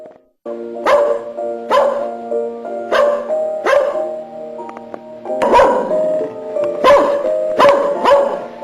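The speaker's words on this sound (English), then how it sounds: "Oh, that's one of our dogs." A dog barks repeatedly at close range, about seven sharp barks in an irregular rhythm, with sustained musical tones playing underneath.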